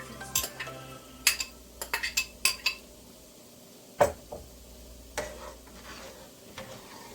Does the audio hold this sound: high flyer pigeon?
no